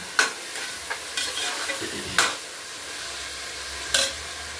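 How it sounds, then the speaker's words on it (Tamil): Tomatoes and chopped vegetables for a vegetable biryani being stirred and fried in a pan, with a soft steady sizzle broken by several sharp scraping stirs of a spoon, close and quiet, with no voices. "தக்காளி நல்லா குக் ஆகிட்டு இருக்கு."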